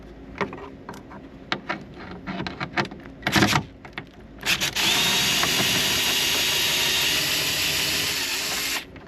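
A few short taps and bursts, then a power drill driving screws whirs steadily and loudly for several seconds, close by, during a car amplifier installation.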